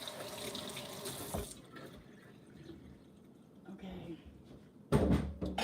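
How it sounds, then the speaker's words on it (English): Tap water runs into a kitchen sink during hand washing, a broad steady rush that starts and stops in bursts. "Sorry about the water noise."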